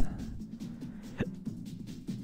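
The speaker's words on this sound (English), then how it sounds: "I got the hiccups" A single sharp hiccup from a man, one brief abrupt catch in the throat standing out near the middle of a quiet stretch with faint background game sounds.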